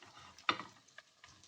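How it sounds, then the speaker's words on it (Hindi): Capsicum dropped into a pan of frying chilli chicken, one sharp clattering sizzle followed by a few faint scraping taps and a soft hiss. "अब इसमें डाल देते हैं शिमला मिर्च"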